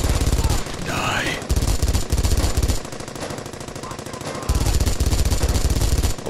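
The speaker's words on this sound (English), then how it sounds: "This is one of the most satisfying MG42s I've ever used." An MG42 machine gun rattles in Brothers in Arms: Hell's Highway, loud sustained bursts of very rapid fire separated by brief pauses, close and dominant over battle noise and a faint voice.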